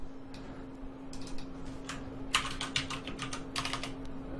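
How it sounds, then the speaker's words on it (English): Fingers type on a computer keyboard at a quiet, close distance: a steady patter of small clicks that gathers into quicker bursts near the end, with a faint constant hum underneath and no talking. "let's just type in"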